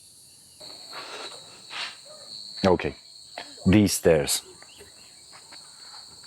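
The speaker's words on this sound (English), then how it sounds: "And you can hear the cicadas." Steady high-pitched cicada drone in Hong Kong runs throughout, with a person speaking briefly over it partway through.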